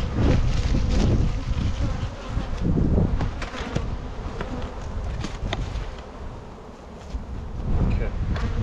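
Honey bees swarm and buzz loudly around an open hive box during a brood inspection, a dense continuous drone with gusts of wind noise and occasional handling sounds close to the microphone.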